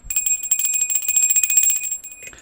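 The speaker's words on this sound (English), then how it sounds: "Knock the bell over." A bell knocked over during a space cleansing rings out in a sustained, shimmering metallic tone with a steady pulsing wobble, then fades near the end, loud and close.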